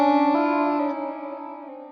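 A Strymon Nightsky reverb pedal, its pitch modulation set to low speed and depth, sustains a held guitar chord as a smooth, gently wavering tail with a couple of soft restrikes, fading slowly, no voice.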